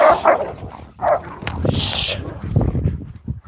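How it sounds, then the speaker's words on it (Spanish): Several dogs on a farm where cows are kept snarl, yelp and bark as they fight, in loud, uneven bursts close by, with a person shouting over the scuffle. "Estos perros cuando estoy parado se enganchan a matarse."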